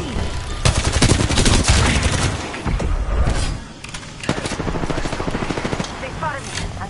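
Loud, dense gunfire in the Apex Legends shooter game: rapid bursts and automatic fire with sharp cracks and booms, heaviest in the first few seconds, with a player's voice talking over the shooting.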